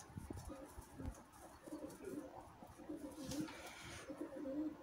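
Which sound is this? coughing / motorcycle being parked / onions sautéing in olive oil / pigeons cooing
pigeons cooing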